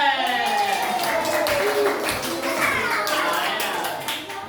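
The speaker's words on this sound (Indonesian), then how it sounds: "Tepuk tangan untuk Nasir" Children in a classroom clap for a classmate, a dense, continuous patter of many small hands with young voices calling out over it, fading slightly toward the end.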